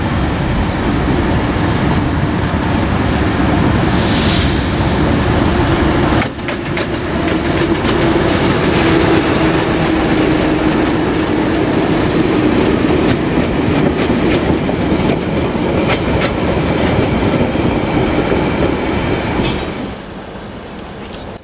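Diesel locomotive Di 1102 pulls a passenger train out of Timaru Station toward Caroline Bay, a loud steady engine rumble with rhythmic clickety-clack of wheels on rail joints that eases near the end.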